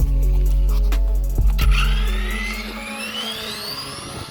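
A Tamiya TT-02 RC car with a 3S 4300 kV brushless motor, running on a speed-run pass, gives a loud, close electric whine that climbs steeply in pitch, then fades and thins as the car pulls away, with no talking.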